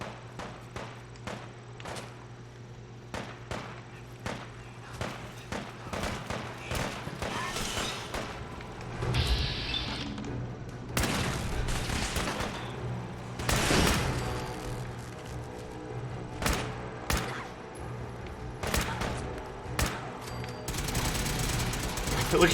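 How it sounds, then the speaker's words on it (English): Gunfire from a firefight in the video game Fallout 4, with repeated sharp shots in an irregular rhythm and occasional heavier bursts under steady game background sound. "This is our supplier, and you can hear the gunshots"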